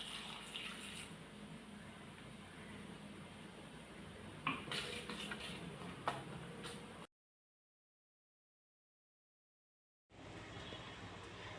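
Water is poured from a cup into a pan of cooking tomato and onion for chicken pizza sauce, a steady running splash with a few clinks of utensils. The sound drops out briefly, then resumes.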